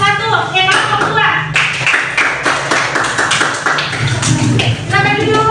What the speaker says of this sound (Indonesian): Beri tepuk tangan dulu untuk kelompok 1.